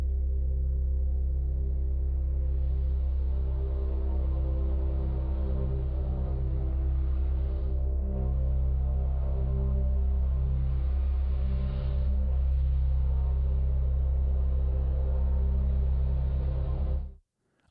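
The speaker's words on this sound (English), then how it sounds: "That is the sound of the bow on the cymbal." A bow drawn across a cymbal, sampled in the Eeyore Kontakt instrument, makes a sustained low droning hum topped by breathy high noise that holds steadily for many seconds and then cuts off abruptly.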